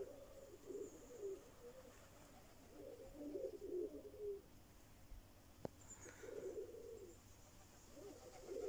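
Domestic pigeons of an Izhevsk high-flying breed coo in soft, low repeated bursts at close range, in several phrases separated by pauses, over a quiet outdoor background with one brief sharp click.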